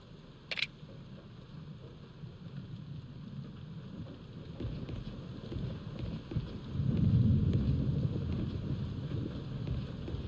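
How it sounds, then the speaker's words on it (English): A storm rumbling in the background of the video game Yakuza Kiwami, a low steady wind-and-rain roar that swells louder in the second half, distant and continuous, with a brief sharp click near the start. "you can hear a storm in the background even though it's not storming outside"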